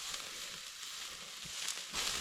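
Steak cooking over a weak winter campfire, a faint continuous sizzle and crackle with a few soft pops, quiet and steady, no voices.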